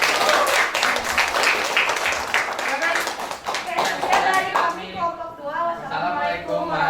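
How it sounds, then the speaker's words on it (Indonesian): A classroom of students claps for a student group after a presentation, a burst of close, dense applause that thins out toward the end while voices speak over it. "Kita berikan aplaus dulu untuk kelompok 2."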